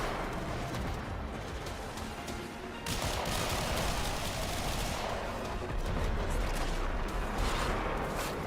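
Sustained gunfire aimed at the player in a shooter video game, dense rapid automatic bursts that continue without a break, loud and close.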